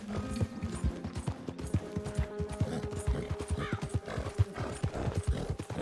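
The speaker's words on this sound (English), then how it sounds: "We gotta ride on the world's slowest horse" Hooves clip-clop in a steady trotting rhythm while a horse is ridden in Red Dead Redemption 2, with a snort or whinny and faint tack and gear rattles layered in.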